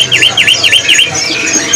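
Bird calling in a bird shop, a loud close series of four quick repeated chirped notes followed by softer twittering, with shop noise faintly underneath.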